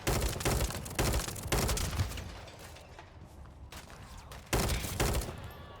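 Automatic gunfire in the shooter game The First Descendant, loud rapid bursts repeating in several volleys separated by brief pauses.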